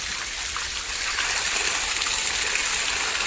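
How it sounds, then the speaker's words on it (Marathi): Water from a burst pipe on a farm gushes steadily in a loud, continuous hissing rush close by, with no voices. "हे बघा खालीच भरपूर पाणी खाली जातं ना, पाईप फुटलेला आहे"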